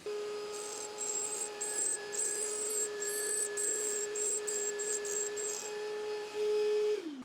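Grinding while roughing in a taper on a boring bar: a steady tonal machine whine with intermittent higher rasping bursts of contact, fairly quiet and ending as the motor winds down.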